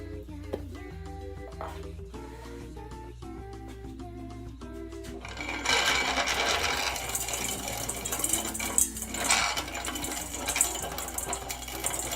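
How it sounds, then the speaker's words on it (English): A grain mill cracking plain dry corn kernels, starting as faint scattered clicks and then rising into a loud, continuous grinding clatter for the rest of the run. "let me make sure we got our machine dialed in before we run our washed corn through"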